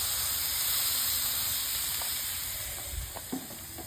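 Redfish fillet searing on a hot grill gives a steady, loud sizzle with a constant hiss, easing slightly near the end as faint crackles pop through.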